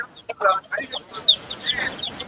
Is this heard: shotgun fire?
no